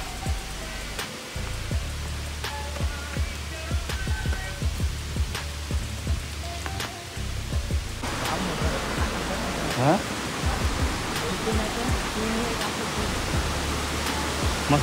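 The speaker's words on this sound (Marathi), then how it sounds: "आम्ही पोहोचलेलो आहे आडोशी वॉटरफॉलला" Adoshi waterfall near Khopoli in Adoshi village, a loud, dense, continuous roar of falling water close by, with no voices heard.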